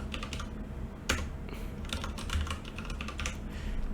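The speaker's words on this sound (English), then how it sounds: "So let me key in my password." A password being typed on a computer keyboard: rapid, close clicking keystrokes in an uneven stream, with one sharper tap standing out among the quieter presses.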